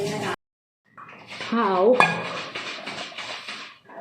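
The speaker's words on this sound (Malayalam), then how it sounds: "ഞാൻ നമ്മൾ കഴുകിയ പാത്രം എടുക്കുക" A metal cooking pot clanks and scrapes as it is picked up and set down, with a voice talking over the handling.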